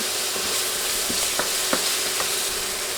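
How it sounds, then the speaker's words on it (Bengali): Garlic paste fries in a pan with sliced onions, a loud, dense, continuous sizzle with a few soft spoon taps, close up and with no talking. "এখন দিচ্ছি এক টেবিল চামচ রসুন বাটা রসুন বাটা বিশ সেকেন্ড ভেজে নিব"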